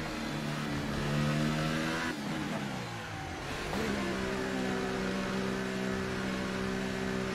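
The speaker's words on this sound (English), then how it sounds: "I still say that the car sound is weird" Racing-game engine of a McLaren Formula 1 car in F1 2018 at the Azerbaijan Grand Prix, whining steadily at high revs, dipping briefly as it downshifts, then climbing back to a sustained loud drone with no voices.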